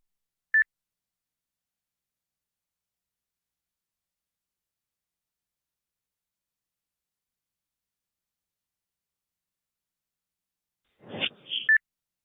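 Short DTMF-style tone bursts over an amateur radio stream on an Icom IC-9700: one brief beep near the start, then a cluster of tones near the end, with silence between and no talking.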